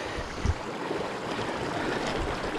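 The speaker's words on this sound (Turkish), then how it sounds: "Böyle çok güzel bir dere var burada." A mountain stream on the eastern slopes of Uludağ rushes in a steady, even wash of water noise close by, with no voices.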